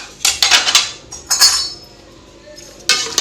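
Metal spoon clinking and scraping against a pot while mixing meat with coriander powder, cumin and turmeric, in bursts of clattering strokes with pauses between, close and fairly loud.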